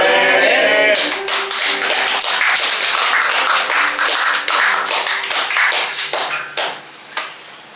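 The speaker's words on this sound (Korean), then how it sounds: "우리 귀한 말씀 전해주신 진준영 강사님 감사의 박수 한 번 더 부탁드리겠습니다" An audience at a church high school youth summer retreat service applauds, a burst of loud clapping close by that thins out toward the end.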